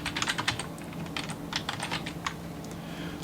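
A password is typed on a computer keyboard in quick irregular bursts of soft clicks, fairly quiet and close, with no talk.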